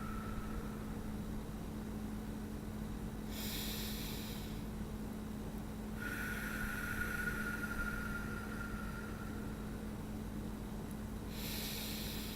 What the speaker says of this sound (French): On prend de grandes respirations.